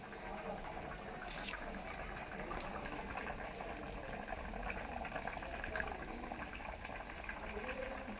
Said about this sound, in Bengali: এই সময় এই ছোটো ছোটো বড়ার সাইজে হাতে করে নিয়ে এই ঝোলের মধ্যে ছেড়ে দেব